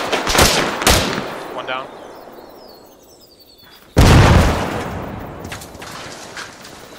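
A frag grenade explodes in Arma 3 with a sudden, heavy blast that rumbles and fades, after earlier gunshots, while a voice speaks briefly in the middle.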